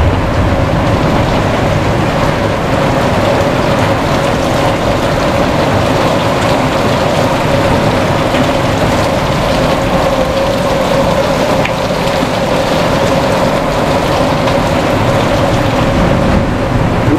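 Hail and heavy rain pelting steadily outdoors on a homestead during a small thunderstorm, a dense, constant hiss and patter that holds at the same loud level throughout with no talking.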